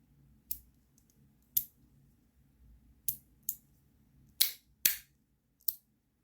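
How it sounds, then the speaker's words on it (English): Magnetic fidget clicker with strong corner magnets, snapping in sharp, close clicks: seven separate clacks spaced irregularly over a quiet background, the later ones louder and fuller. "I don't know if you can hear that rattle."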